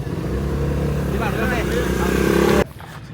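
Motorcycle engines rumble and rev steadily nearby amid voices at a group charity ride gathering in northern Malaysia, then cut off abruptly near the end.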